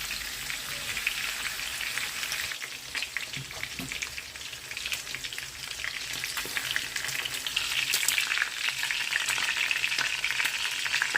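Steady, crackling sizzle of pork belly frying in hot oil, dense and continuous with bright spattering pops, growing slightly louder toward the end; no voices.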